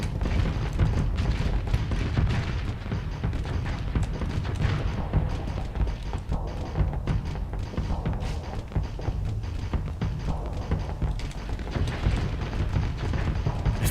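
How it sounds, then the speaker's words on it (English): Main guns fire during a Starsector space battle in a computer game, a dense, continuous rumble of booms and impacts that stays loud and steady throughout. "let's go in and activate main guns"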